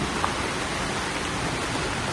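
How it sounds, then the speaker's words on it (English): Steady, even hiss of rain falling on a campsite, broadband and continuous throughout with no voices. "it's been raining on and off all day"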